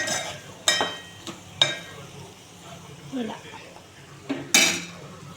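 Mixed vegetable curry being stirred as it fries in a pan: intermittent metallic clinks and scrapes of a spoon against the pan over a soft sizzle, close by.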